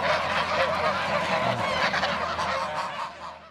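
A flock of farm-raised geese on a goose farm in Turkey honk continuously, their overlapping calls loud and close, with no talking.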